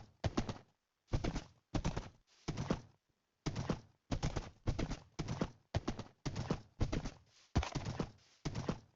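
Horse hooves clip-clop in a video game, a crisp run of evenly spaced hoof strikes in clustered pairs with short silent gaps, loud and close with nothing else under them.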